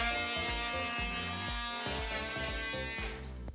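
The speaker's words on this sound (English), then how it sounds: "So once again, I'm using the oscillating tool." An oscillating multi-tool cutting into drywall to hide TV wires, making a close, loud, steady buzzing hum with rhythmic pulses as the blade works, easing off near the end.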